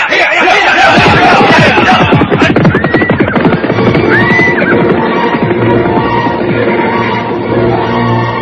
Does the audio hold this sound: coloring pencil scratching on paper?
no